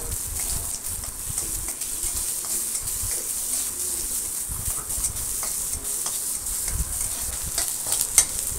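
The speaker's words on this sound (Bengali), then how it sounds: "তো পেঁয়াজটা আমি নেড়ে চেড়ে ব্রাউন কালার করে নেব" Onions fry in hot oil with bay leaf and whole garam masala, stirred until brown for a jackfruit and potato curry: a continuous soft sizzle with intermittent spatula scrapes, close and steady.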